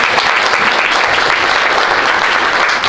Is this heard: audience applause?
yes